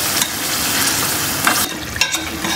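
Chicken cooks in yogurt in a karahi pan, giving a loud, dense sizzle with stirring scrapes; the hiss briefly drops and returns toward the end.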